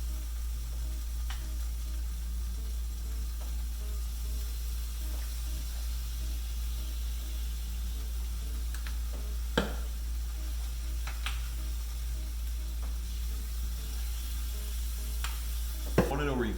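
Bison spleen frying in a pan with balsamic vinaigrette and hot sauce gives a continuous close sizzle under a low steady hum, broken by a few sharp utensil clicks and scrapes.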